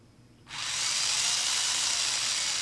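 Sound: SGILE RC rock crawler motor driving in reverse

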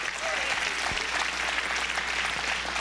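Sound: congregation applause

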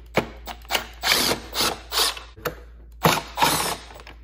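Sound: unscrewing Phillips head screws from truck tow mirror

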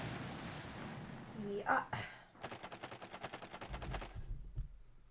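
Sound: explosion in video game Paper Mario The Thousand Year Door

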